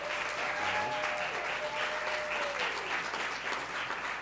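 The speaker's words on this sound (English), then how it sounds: "Round of applause." A large crowd claps steadily and loudly for several seconds at a student media awards ceremony, with a few faint voices and whistles mixed into the applause.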